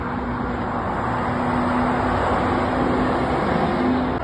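A Volvo truck passing on the M62 motorway near Huddersfield, a loud, steady broadband roar of engine and tyres with a low drone, close by and unbroken, no talk.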